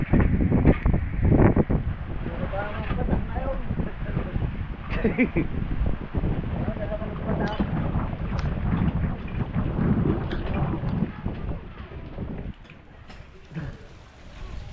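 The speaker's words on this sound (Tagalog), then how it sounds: "Saglit lang yung ulan" Heavy rain pours steadily with low rumbling thunder underneath, a dense continuous roar that eases slightly toward the end.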